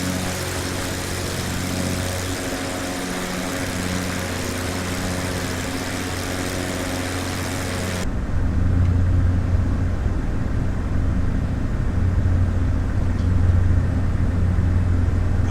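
Steady, loud engine drone inside a light aircraft flying over New Zealand mountains and ridges, continuous throughout with a slight shift in tone midway.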